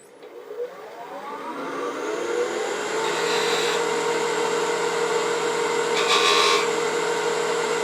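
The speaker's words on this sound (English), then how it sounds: "I'm going to highlight the different patterns with a point tool" A point tool cuts across a spinning wooden shop stool part on a lathe, a steady scraping rasp over the motor's constant hum, with brief louder bursts of cutting near the middle and end, close and loud.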